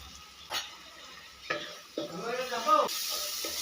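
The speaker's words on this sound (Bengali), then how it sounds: "মশলাগুলোকে ভালো করে কষানোর জন্য দিয়ে দিলাম খুব সামান্য পরিমাণে জল" Spices with salt being sautéed in a pan with a splash of water for a Bengali egg and soybean curry, giving soft sizzling and intermittent scraping stirs, close and moderately loud.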